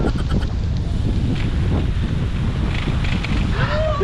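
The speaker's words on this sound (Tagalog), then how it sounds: "Lakas ng hangin. Headwind pa naman" Strong, steady headwind buffets the microphone throughout a bike ride around Jala-Jala, a loud continuous low roar with no pauses.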